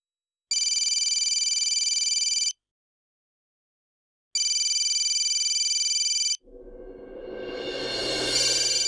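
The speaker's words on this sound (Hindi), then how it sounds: "राम सर का फोन है।" Telephone ringing in two steady electronic bursts of about two seconds each with silence between, loud and close, followed by a rising rush of noise.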